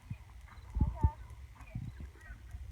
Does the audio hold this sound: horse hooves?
yes